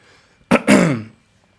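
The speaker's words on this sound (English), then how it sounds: "Had to clear my throat." One brief, close throat clearing: a short rough burst followed by a longer gravelly rumble, then quiet.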